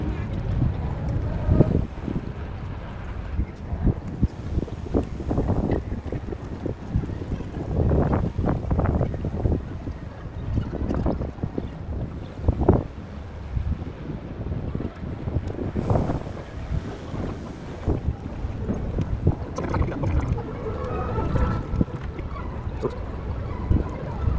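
Gusty wind buffets the microphone on an open outdoor day at Six Flags Great Adventure near the Flash: Vertical Velocity coaster construction site, producing uneven low rumbling bursts that rise and fall throughout, with faint background activity.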